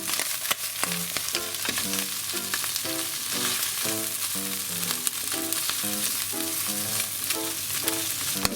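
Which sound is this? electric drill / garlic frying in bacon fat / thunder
garlic frying in bacon fat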